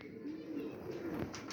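Jonsiray pigeons coo softly at close range, a couple of low, rounded calls rising over a quiet background hum.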